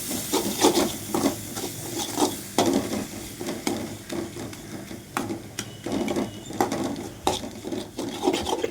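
A spoon scrapes and stirs repeatedly in a pan of frying masala for egg curry, irregular rubbing strokes over a soft sizzle, close by.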